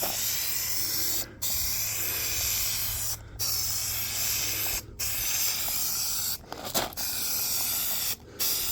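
Adhesive sprayed onto a sagging car headliner hisses in long, steady bursts, about five passes cut by brief pauses, close and fairly quiet.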